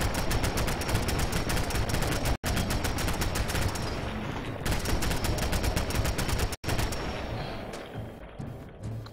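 Rapid automatic gunfire in the video game Fallout 4 rattles in long, loud, continuous bursts with two brief breaks, then tapers off toward the end. No one speaks over it.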